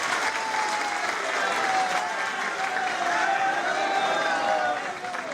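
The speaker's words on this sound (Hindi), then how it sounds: "जोरदार ताली बजाकर अभिनंदन करते हैं।" Loud, sustained applause from a large crowd, steady throughout with many hands clapping together, a few voices mixed in.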